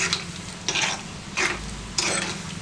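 Mustard seeds, urad dal and cashews sizzle in hot oil for a tempering, with a spoon stirring in four distinct strokes over a soft, steady frying hiss.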